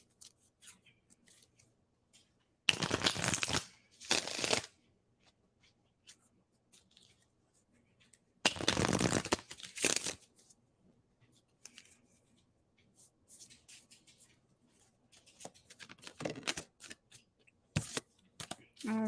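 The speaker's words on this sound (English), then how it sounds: "I'm going to shuffle for you now" Tarot cards are shuffled in quick riffling bursts, crisp and close, with pauses and small taps and slides of cards between the bursts.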